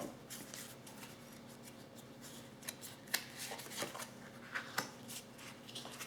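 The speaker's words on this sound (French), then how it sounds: "je vais prendre une carte de l'archange Michael pour savoir quel est le message pour les scorpions" Archangel Michael oracle cards being handled and drawn, with faint, close papery shuffling and rubbing and a few crisp card snaps, in a quiet room with no talk.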